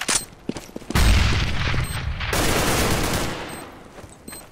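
A grenade goes off on the Dust II map in Counter-Strike: Global Offensive, one heavy, close boom followed by a rumbling tail and scattered gunfire.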